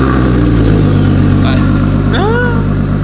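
A Toyota Supra engine idles on a dyno, steady and loud with a low, rumbling hum throughout, and a brief voice and a rising tone near the end.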